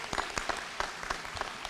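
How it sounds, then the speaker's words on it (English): A round of applause from the audience at a city pre-kindergarten graduation ceremony, with scattered, fairly sparse hand claps at moderate volume and no talking. "Let's give our young folks another round of applause"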